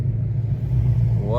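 Manual Ford Mustang Dark Horse, a 1200 hp build, rumbling loudly with a rev-match blip rising at the end, heard up close from inside the car over a steady low engine drone, with people talking excitedly.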